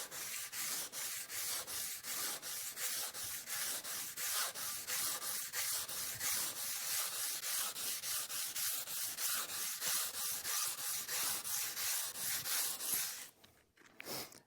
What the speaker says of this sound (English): I'm going to sand with the grain here, and I'm going to take long strokes